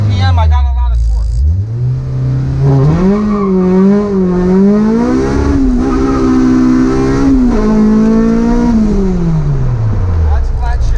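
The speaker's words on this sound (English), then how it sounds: "First gear, hands here, I'm sinking it just a little bit, and I'm launching it out." A car launches hard in first gear and flat shifts, its engine rising in pitch, briefly dropping at the shift and climbing again, loud and close, then falling away.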